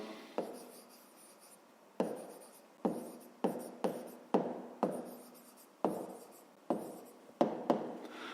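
Numbers being written by hand, pen or chalk strokes arriving as about a dozen sharp, close taps and short scratches in irregular bursts against a quiet background.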